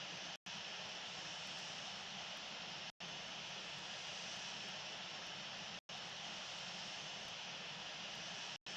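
Airliner engines drone in a steady, even roar in a flight simulator game, a Qantas Boeing 747-400 at Sydney, continuous apart from a few brief cutouts in the sound.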